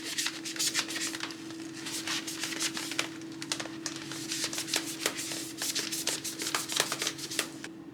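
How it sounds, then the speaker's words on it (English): A wet magic eraser scrubs hard at the body of an American Girl doll, giving steady, close, rapid rubbing and scratching strokes that continue without pause throughout. "I'm going to wet the magic eraser and I'm going to scrub the heck"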